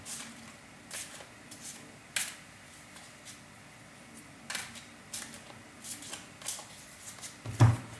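Tarot cards are shuffled by hand in soft, intermittent riffles and slaps, close and fairly quiet, spread across the stretch with a louder tap near the end.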